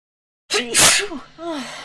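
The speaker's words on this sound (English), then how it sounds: "Didn't mean to sneeze there." A single loud sneeze bursts out after a moment of silence, followed by a short voiced exhale.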